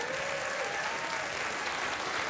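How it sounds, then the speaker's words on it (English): Late-night talk show studio audience clapping, a dense, even wash of applause that fills the whole moment without breaks. "Give him a round of applause for taking a guitar lesson."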